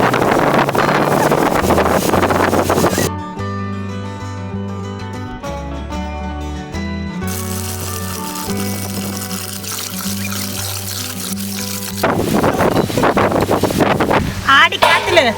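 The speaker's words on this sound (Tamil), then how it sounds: "வாய்க்காலில் தண்ணி ஃபுல்லாக போகுது" Water runs full through an irrigation canal beside a riverbank on a windy day, a steady rushing wash loud at the start and end, with tonal music playing over the middle stretch.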